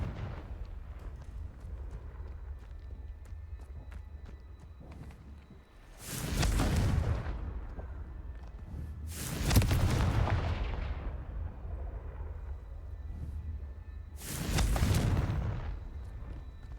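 Three heavy booming blasts from the Confringo fire spell in the Hogwarts Legacy video game, spaced several seconds apart over a constant low rumbling battle bed, each burst loud and broad before fading.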